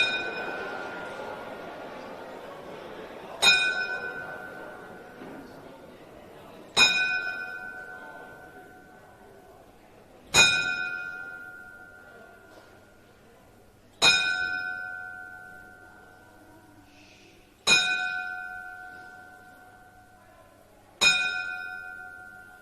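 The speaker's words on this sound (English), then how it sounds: "stand and remain silent for a 10-bell salute" Boxing event bell tolled ten times as a salute, single clear clangs spaced about three and a half seconds apart, each ringing out and decaying in a quiet hall.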